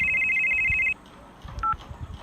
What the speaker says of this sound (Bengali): পুজোর 1 সপ্তাহ বাদেই একটা অচেনা নাম্বার থেকে ফোন এলো।